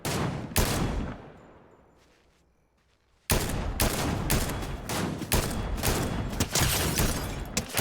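Rapid bursts of video game gunfire from a DMR and assault rifles during an online shootout, loud dense volleys with a brief lull in the middle before heavy firing resumes.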